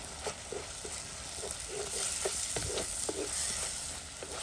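Egg puff masala with salt and coriander leaves fries in a pan with a continuous, close sizzle, punctuated by repeated light taps and scrapes of stirring, and no one speaking.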